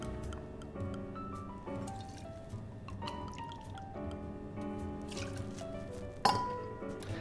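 Courvoisier VSOP cognac, about 60 ml, poured steadily into a glass as the first cocktail ingredient, a soft liquid trickle running under continuous background music, with a brief sharp clink near the end.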